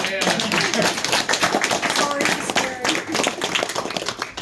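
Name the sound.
audience clapping at campaign meeting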